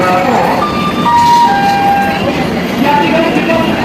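Train 12565, the Bihar Sampark Kranti Express from Darbhanga to New Delhi, departs Samastipur Junction, a loud continuous rumble of wheels and engine with horn-like tonal whines. A voice talks over it throughout.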